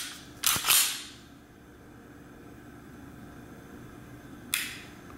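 M&P Shield .45 ACP pistol fired outdoors, two sharp shots in quick succession followed by a third after a pause of several seconds, each loud and close with a brief fading echo.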